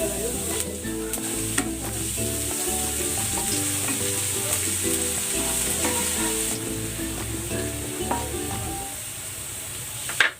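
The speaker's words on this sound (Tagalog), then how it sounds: "Igisa na rin natin tong bawang." Chopped garlic sautés in hot oil in a pan for milkfish (bangus) sinigang, a steady close sizzle with intermittent stirring scrapes and clinks throughout and no talking.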